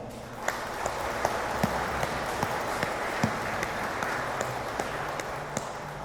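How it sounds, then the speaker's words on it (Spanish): Guests at a church wedding ceremony in San Agustín Oapan give a soft, distant round of clapping, thin and steady, with a few sharper claps standing out near the front. "Les damos un fuerte aplauso."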